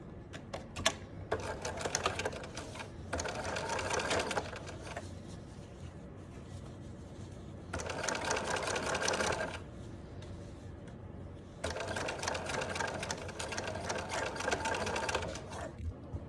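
A sewing machine stitches a flat felled seam in several rapid, buzzing runs of a few seconds each, with short quiet pauses between them.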